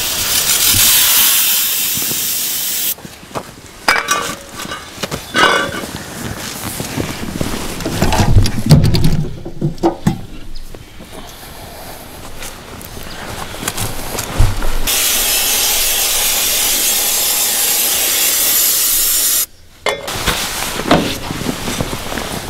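Brake cleaner sprayed from an aerosol can onto an old dozer that sat unused for years, loud sustained hissing bursts with short pauses and a few clanks between sprays.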